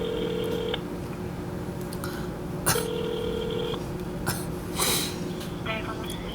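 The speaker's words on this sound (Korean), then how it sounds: "우리 멘토님 김은혜 씨한테 제가 전화를 한번 하도록" A telephone call rings through an earpiece, with two steady ringback tones of about a second each separated by a pause, over a low background hum.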